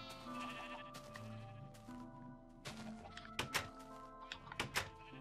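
Sheep bleat in the video game Minecraft over continuous background game music, with a few thumping hits and clicks toward the end.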